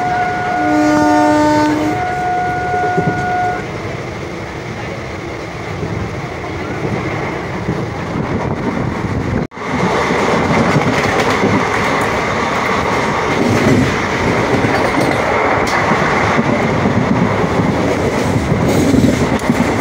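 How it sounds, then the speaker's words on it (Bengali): An express train races through Memari station without stopping, its loud continuous rumble and rail clatter steady throughout, opening with a long horn blast and briefly dipping near the middle before the roar resumes. "আমাদের ট্রেন এখন স্কিপ করছে Memari, one of the important station."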